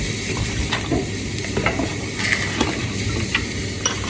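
A spatula stirs a paste of powder and water in a bowl, giving repeated soft scraping and wet clicks over a steady hiss, close and fairly loud.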